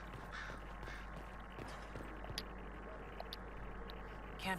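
Crows caw faintly in the distance in the Dragon Age Inquisition game world, a few scattered calls over a low steady ambient background.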